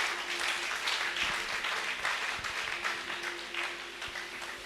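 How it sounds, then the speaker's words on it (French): Church congregation applauding during a service, a dense continuous wash of clapping from many people that holds steady and tapers slightly toward the end. "Je voudrais qu'on acclame très fort Jésus de Nazareth."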